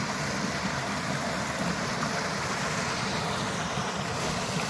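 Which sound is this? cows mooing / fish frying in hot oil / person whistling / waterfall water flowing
waterfall water flowing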